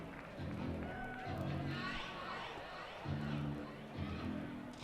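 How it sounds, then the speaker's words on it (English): Baseball fans cheer in the ballpark as a steady, distant crowd roar with swells, while a commentator talks over it throughout. "the fans in the park that still want to watch baseball, they're cheering away"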